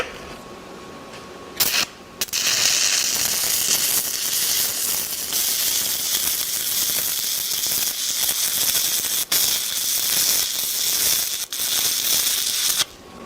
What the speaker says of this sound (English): we're going to have a really sputtery arc, and it's going to struggle to stay lit